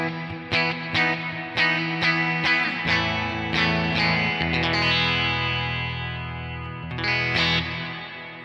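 An electric guitar runs through a Pettyjohn ROUS drive pedal, a Blue Sky reverb and a Tyler PT14 profile on a Kemper. It plays distorted, strummed chords with sharp attacks and long reverb tails, and no one speaks.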